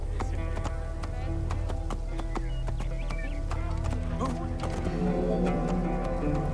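Horses' hooves clatter in a steady, rapid clip-clop during a chariot race in the video game Assassin's Creed Origins, set in ancient Alexandria, mixed with mechanical rattling and a constant background score.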